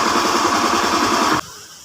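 A fuel-injected Beat motorbike engine with a knocking fault in the crankcase runs loud and rough up close, then cuts out abruptly, leaving near silence.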